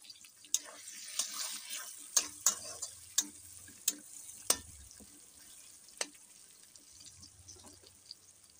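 Chopped tomato and onion frying in a pan for a spicy chicken curry, with a soft sizzle broken by sharp clicks and scrapes of stirring, several distinct knocks spaced through the stretch.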